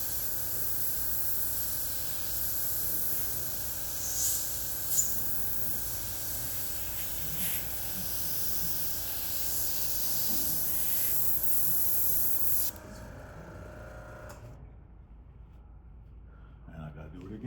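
An airbrush sprays paint at close range as a steady, loud hiss that runs for about thirteen seconds, then cuts off, leaving a quieter background.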